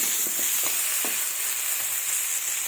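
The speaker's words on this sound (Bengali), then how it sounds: "লবণ হলুদ দেবো। এবার কিছুক্ষণ এটাকে ভেজে নেব।" Fish seasoned with salt and turmeric fries in oil for a fish curry, giving a continuous, even sizzle with a few soft crackles and pops early on, close by and with no voices.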